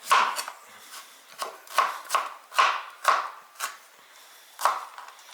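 A knife chops through broccoli stems on a cutting board, the same knife used earlier on garlic and onion: about nine crisp, close cuts in an uneven rhythm, with no talking.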